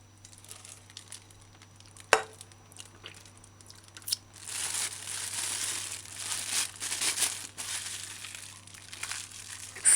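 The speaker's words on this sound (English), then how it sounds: "pour it in a clean plastic bag, seal it" A clean plastic bag filled with thick mountain soursop milk drink is sealed, giving close crinkling and rustling of plastic that swells after a sharp click and carries on in irregular bursts over a low steady hum.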